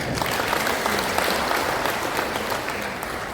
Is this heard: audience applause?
yes